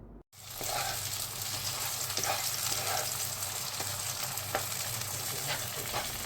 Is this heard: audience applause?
no